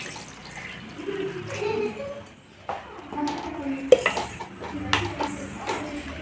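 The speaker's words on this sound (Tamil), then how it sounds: "இப்போ நம்ம தேவையான அளவு தண்ணி ஊற்றிக்கலாம் ஒரு ஒரு சொம்ப அளவு ஊற்றிக்கலாம்" Water splashes into a pot of star gooseberry curry amid clinks and clatter of cookware, fairly close, with scattered sharp knocks.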